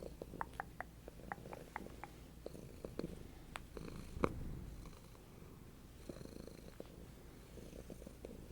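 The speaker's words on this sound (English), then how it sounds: "You've got a loud purr." A cat purrs loudly and steadily at close range, a low rumbling drone with small clicks and soft thumps scattered through it.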